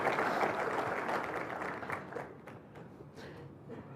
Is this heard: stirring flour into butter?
no